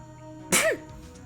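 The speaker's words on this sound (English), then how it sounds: "Sorry, I had to sneeze." A single sharp sneeze breaks out of quiet room tone, brief and close, with a short trailing vocal sound after the burst.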